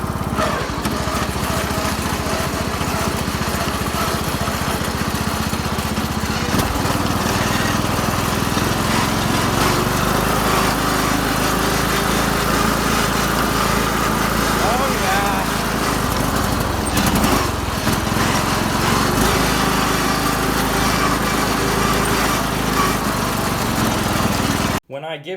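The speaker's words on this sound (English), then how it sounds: "When I give it gas, it chugs a little bit and wants to die" A homemade racing lawn mower's small engine runs steadily in first gear, a loud continuous droning buzz held for about 25 seconds before cutting off abruptly at the end.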